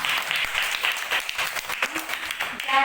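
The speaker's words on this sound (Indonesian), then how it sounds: "Tepuk tangan." Pupils in a classroom lesson clap together in a steady burst of applause, close and fairly loud, with a few quiet voices mixed in under the clapping.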